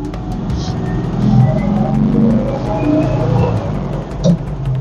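A 1968 VW Bay Window bus with shifting trouble, driving with a steady engine drone and road rumble from inside the cabin, shifting up into third gear, loud and close with a regular ticking in the background.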